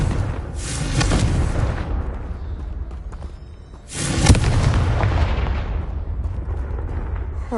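A blasting spell in the Hogwarts Legacy video game erupts twice, each a loud, rumbling explosion that booms up suddenly and then decays into a crackling tail, with no voices.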